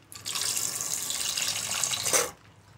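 Half a litre of sour yogurt pours into a bowl in one continuous watery rush lasting about two seconds, close and fairly quiet, ending abruptly, with no voices.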